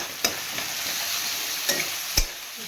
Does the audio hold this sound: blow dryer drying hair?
no